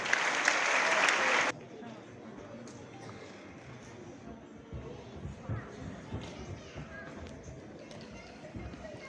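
A brief burst of audience applause fills the first second and a half at a Turkish hafız graduation ceremony in a hall, then cuts to quieter room noise with murmuring voices and shuffling.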